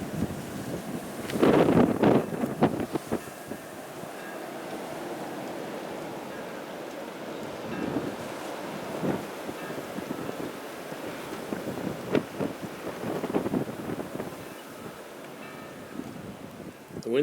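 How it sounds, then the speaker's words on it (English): Blizzard wind blowing from the northeast during a New England snowstorm, a steady roaring rush buffeting the microphone with louder gusts near the start and again later on. "The wind's coming in from the northeast,"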